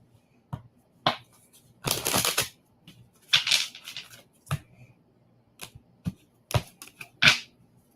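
Playing cards are shuffled during a live psychic card reading, heard as repeated brisk riffling bursts and sharp snaps, some dense and sustained, others short and crisp, close and fairly quiet with no talking.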